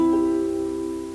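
A folk harp triad rings out as weaker fingers release their strings late, several sustained plucked tones blending and slowly decaying, played alone and close.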